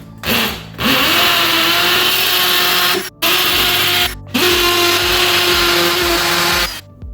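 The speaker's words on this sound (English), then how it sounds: "I'm pre-drilling with a concrete drill bit in order to put my Tapcons" A power drill with a concrete bit runs loud and close in long bursts, whining steadily as it bores into concrete, stopping briefly between runs before starting again.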